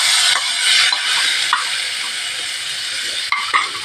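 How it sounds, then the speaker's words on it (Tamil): Masala sizzles and is stirred in a pan over a low flame while Mumbai-style vada is cooked. A steady hiss of frying comes through, with a few scraping stirs and small clinks of the spoon. "நல்லா வதக்கி விட்டுறணும் மசாலாவை."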